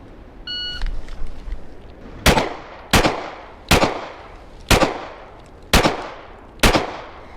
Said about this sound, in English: Do this right, 6 shots.